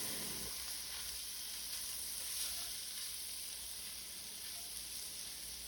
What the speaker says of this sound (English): Now I have about 3 heaping tablespoons of flour in here. We want to stir this in.